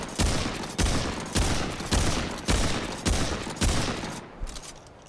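Gunfire from the video game Remnant 2, shots aimed at the body: six heavy, booming reports in an even rhythm about half a second apart, each with a short decaying tail, loud and alone.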